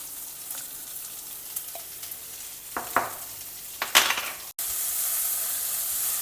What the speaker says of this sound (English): Saute all this in the oil for a few minutes.